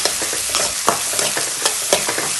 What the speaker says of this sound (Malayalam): എണ്ണ ചൂടായി വന്ന് ആവശ്യത്തിന് കടുകിട്ട്, പിന്നെ ഇഞ്ചി വെളുത്തുള്ളി പേസ്റ്റ് അതിട്ട് നന്നായി ഇളക്കി കൊടുക്കും.